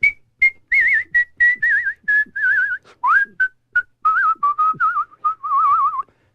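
A man whistles the Habanera from Bizet's Carmen solo and close up, in clear phrased notes with vibrato and short pauses between phrases.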